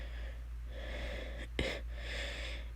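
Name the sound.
narrator imitating a character coughing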